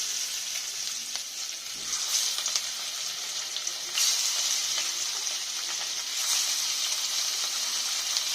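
Pieces of katla fish frying in hot oil in a wok give a steady, close, bright sizzle that swells in a few louder surges and keeps going without any talking over it.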